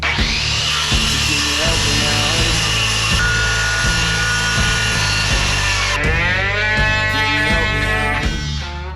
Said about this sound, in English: Now I'm going to cut the plywood face and lid for that box.